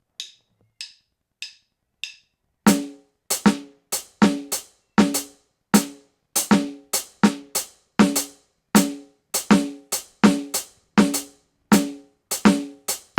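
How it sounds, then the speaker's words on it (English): A few light hi-hat ticks, then hi-hat and snare playing together, an even five-against-four polyrhythm with crisp, close strikes and no voices. "I'm going to play 5 strokes on the hi-hats evenly against 4"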